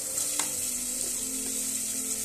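Onion, ginger and garlic paste frying together in a pan for egg biryani, a continuous close sizzle with a brief stirring scrape near the start and no talk.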